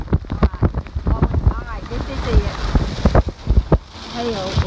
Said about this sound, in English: Hail is beginning.